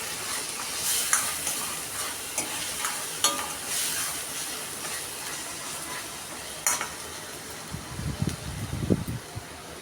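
Curry leaves sizzle and fry in hot oil for an egg curry, a steady close hiss broken by scattered spits and pops, with stirring and scraping rising toward the end and no talking.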